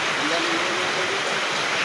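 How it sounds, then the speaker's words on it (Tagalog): Steady rain falls during outdoor cooking while dried fish is being made, a dense, even hiss filling the whole stretch without pause, fairly loud and close. "umuulan na naman"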